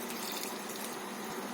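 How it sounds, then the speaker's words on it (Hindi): Hot water poured from a glass into a pot of mutton khichda with chickpeas, rice and broken wheat, giving a steady close trickling splash throughout. "तो 1 गिलास के करीब हम इसमें डाल देते हैं गर्म पानी"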